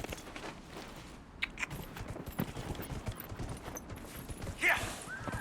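Horse hooves clip-clop in Dragon Age: Inquisition, a steady run of hoof beats at moderate volume over a busy game soundscape.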